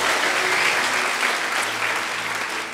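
A church congregation applauds in a steady, dense wash of many hands that holds at full strength and eases only slightly toward the end, with no voices breaking through.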